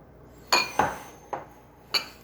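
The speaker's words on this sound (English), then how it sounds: "So I'm just going to put them in the bowl. And just mix them up." A utensil clinks against a bowl while sugar is mixed for bee protein patties: four sharp, separate knocks spread unevenly over a couple of seconds, fairly close, with quiet gaps between them and no voices.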